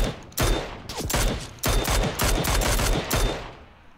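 Rapid automatic gunfire in the battle royale game PUBG, several loud close bursts of shots with brief gaps between them, with no talk over them.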